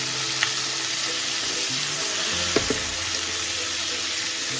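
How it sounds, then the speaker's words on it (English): Mushrooms and bok choy sizzle steadily as they are stir-fried in a hot pan, a dense continuous hiss with a few brief clinks of stirring, close and alone. "Stir-fry briefly."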